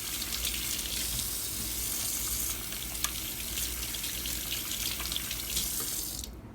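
Tap water runs steadily into a kitchen sink as hands are washed, a continuous close splashing hiss with small shifts in flow, no talking over it.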